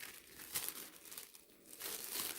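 Plastic freezer bag crinkled and handled while portioning potatoes for cooking in a home kitchen, close crackling rustles across a couple of seconds, with no talk.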